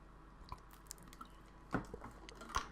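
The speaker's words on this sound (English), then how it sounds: "I'll take a sip of water real quick" Someone takes a few quick sips of water close to the mic, with small wet slurps and clicks scattered over a quiet room.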